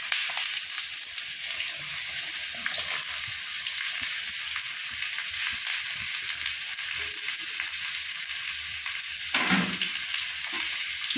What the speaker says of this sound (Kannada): ಈಗ ಇದನ್ನು ಚೆನ್ನಾಗಿ ಫ್ರೈ ಮಾಡ್ಕೋಬೇಕು.